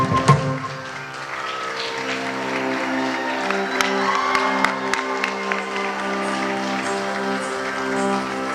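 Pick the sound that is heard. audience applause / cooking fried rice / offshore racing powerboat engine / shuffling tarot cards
audience applause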